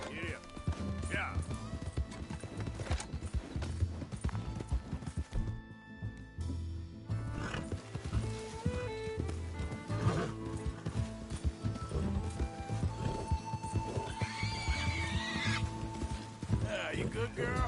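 Horse galloping in the video game Red Dead Redemption 2, with rapid rhythmic hoofbeats running throughout and a brief neigh, under voices talking in English and German.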